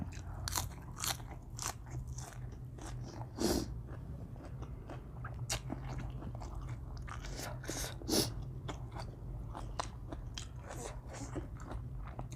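Close, steady crunching and biting of raw vegetables eaten fresh beside a pond, with dense repeated chews and a few louder crisp bites, no talking.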